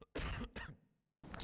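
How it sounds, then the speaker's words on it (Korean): Several dry coughs from a man recovering from COVID, the bursts close together near the start, then a brief pause before one more cough, heard close up in a quiet room with no talking. "아직도 좀 기침을 좀 하고 있습니다"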